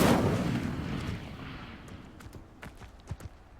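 The Incendio fire spell is cast in Hogwarts Legacy, producing a heavy, booming burst that rolls out and slowly decays, followed by scattered light clicks and taps.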